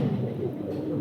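A racer pigeon coos close by, a low throaty purring running steadily through the whole second.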